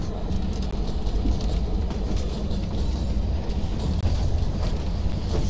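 A moving train rumbles steadily with a continuous low roar and faint rhythmic clatter of wheels, heard from inside a carriage with no voices.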